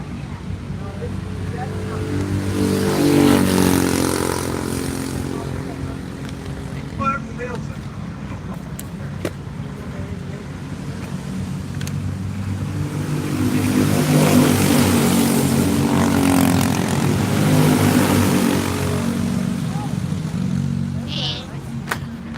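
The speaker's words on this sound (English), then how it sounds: "4 tight as they go past the start finish line." Race cars on the Quincy Grand Prix circuit roar past the start-finish line in two loud waves, engines swelling and fading with wind noise, under a commentator's continuous talk.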